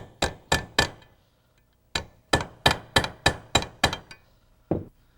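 A hammer taps a rivet into the brake lining of an early post-war Rolls-Royce brake shoe. About a dozen sharp, close metallic taps fall in quick bursts with short pauses between them, and nothing else is heard.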